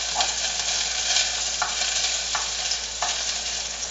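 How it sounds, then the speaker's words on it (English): Two cloves of garlic sizzle steadily in hot olive oil, with a few light clicks of a utensil stirring the pan and no talking. "put in the 2 cloves of garlic to get those started frying"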